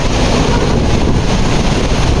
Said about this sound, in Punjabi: ਬਹੁਤ ਹੀ ਠੰਡੀ ਹਵਾ ਚੱਲ ਰਹੀ ਇੱਥੇ